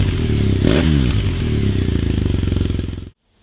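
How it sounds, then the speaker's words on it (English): A BMW R1200GS motorcycle with an SC Project Adventure exhaust, baffles fitted, runs loud and close, revving briefly then settling into a throbbing idle before cutting off abruptly near the end. "have a listen to the exhaust with the baffles fitted"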